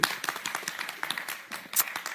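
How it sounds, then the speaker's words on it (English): An audience at a Ghana Most Beautiful 2020 pageant claps for a contestant, a brisk scattered run of close hand claps with no talking over it. "Clap for him,"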